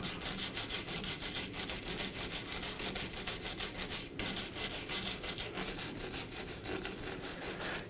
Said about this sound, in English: Now I'm going to prep the face of the knuckle with a wire brush.